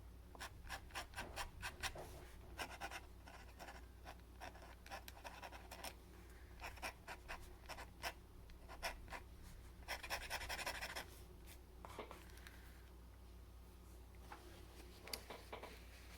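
A pen nib scratching on journal paper while writing in brown ink, quiet close scratchy strokes in irregular bursts and short runs, with brief pauses between the written marks.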